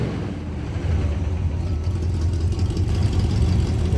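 Old five-speed Ford F-100 pickup engine running, a steady low rumbling drone that swells slightly as it goes, close and moderately loud.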